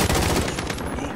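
Rapid automatic gunfire from a new gun in Call of Duty Modern Warfare, a loud, dense burst of shots packed together with no pause.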